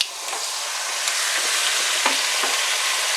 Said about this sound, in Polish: Rozgrzeję sobie patelnię i przesmażę pozostałe składniki